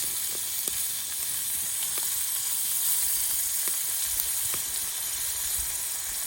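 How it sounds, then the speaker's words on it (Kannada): Pieces of fish frying in a pan give a steady, dense sizzle throughout, with scattered soft pops and crackles standing out from the bright hiss. "ನೋಡಿ ಈ ಮೀನನ್ನು ಒಂದೊಂದಾನೆ ಈಗ ಇಟ್ಟರೆ ಆಯಿತು"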